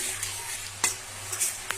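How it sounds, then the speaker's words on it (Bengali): Whole cumin seeds frying in a pan over a low flame as a spoon stirs them, a soft, quiet sizzle under a few scraping strokes, with no voices. "এখন একটু নেড়ে নিলাম"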